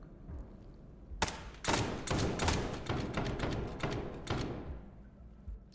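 Rapid bursts of gunfire in the shooter game SCP 5K, several loud volleys in quick succession cracking close by, interspersed with thuds and ringing tails.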